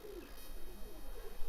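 Pigeons on a rooftop loft coo softly in a low, murmuring drone that stays steady and fairly faint, without any talk over it.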